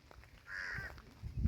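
A single drawn-out, harsh caw from a crow chick, close by, with faint rustling and handling noise before and after.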